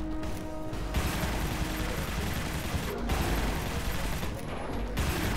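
Dense gunfire in the video game Prototype, rapid continuous bursts of shots and mechanical clatter, loud and sustained throughout with short gaps, no talk.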